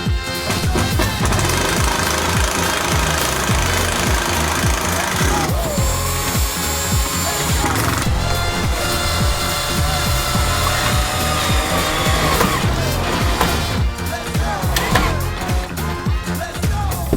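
A power drill runs during the final steps of a van build, whining loudly and continuously with shifting pitch and rough mechanical grinding. Faint talk sits underneath.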